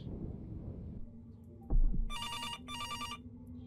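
A telephone in a horror video game rings in two electronic trilling bursts after a dull thump, clear and alone against a low ambient hum.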